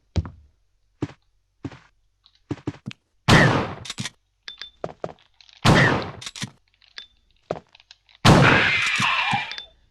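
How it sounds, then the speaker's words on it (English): Gunfire at hunters in the video game Resident Evil: sharp, separate shots ring out at uneven intervals, with three louder blasts standing out among quieter taps and knocks. "I totally ripped them off by firing early like that, and the shot still manages to hit them"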